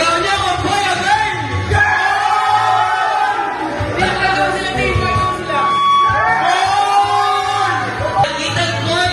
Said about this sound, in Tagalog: Sigaw niya kung boy o girl!